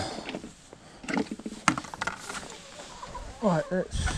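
Chickens cluck and murmur in short scattered bursts close by, with one louder clucking call near the end and faint background noise.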